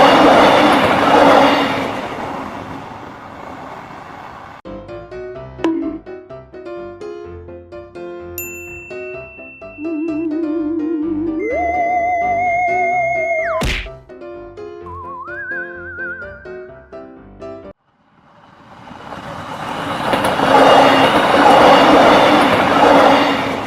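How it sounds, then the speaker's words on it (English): A train rumbles past loudly, then quieter stretches carry sustained tonal whistles and shifting pitches before the heavy rumble returns. "my train is almost here anyway."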